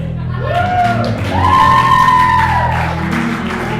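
A studio audience cheers loudly, a sustained wash of whoops, shouts and clapping running the whole time over a steady tonal hum.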